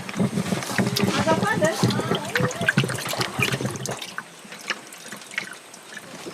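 Water splashes and trickles as it is poured into an old, overheating 4x4, close and uneven, mixed with a voice talking over it before the pouring fades to a quieter trickle.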